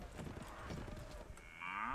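Cattle mooing in the video game Mount and Blade Warband, a couple of low drawn-out moos up close, then a rising tonal call near the end over steady game ambience.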